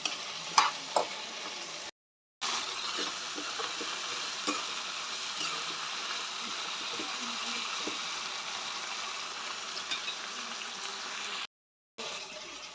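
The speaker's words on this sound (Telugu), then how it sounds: "జీలకర్ర అలానే ఎండుమిర్చి కూడా వేసేసుకొని ఇవి మంచిగా సాఫ్ట్ అయిపోవాలి మనకి" Cumin seeds and dried red chillies frying in a pan with tamarind, for a bitter gourd and onion chutney, giving a steady close sizzle with occasional stirring scrapes and two short breaks.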